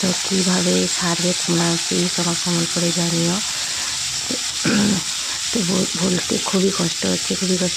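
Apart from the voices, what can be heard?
fish frying in a pan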